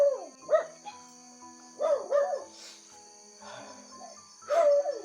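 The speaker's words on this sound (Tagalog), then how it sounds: "Tumatahol yung mga aso." Dogs bark in scattered bursts at some distance, a couple of yips and barks repeated several times with gaps between, over a faint steady background hum.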